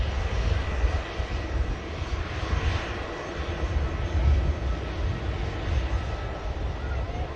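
An Atlas Air Boeing 747 at Manchester Airport holds a steady, loud engine roar with a broad rushing hiss that never lets up, heard from a nearby viewing spot.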